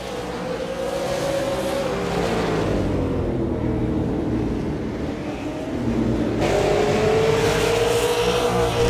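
Race cars roaring around Langley Speedway during a stock car race, engines droning loud and steady with rising and falling pitch as the cars pass, swelling louder near the end.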